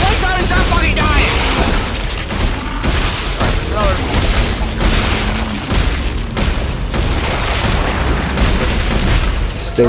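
Gunfire in the video game Coronavirus The Game 3, heavy booming shots that blend into a steady, dense wall of game noise lasting the whole stretch, with a player talking over it.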